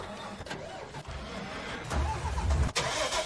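A tractor engine in Farming Simulator 19 cranks and starts, then settles into a steady mid-pitched rumble that swells toward a rev, heard close with no speech over it.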